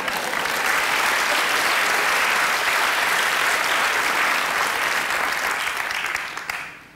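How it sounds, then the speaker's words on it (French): Studio audience at a French television talk show applauding, a dense, steady wash of clapping that holds throughout, then fades out at the end. "sœur Marie Brizard, sous vos applaudissements."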